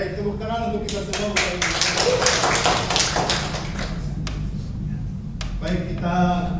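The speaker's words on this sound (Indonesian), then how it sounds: "tepuk tangan untuk kita semua" A room of teachers at an Indonesian school training session clap in scattered, uneven bursts while voices talk over the applause.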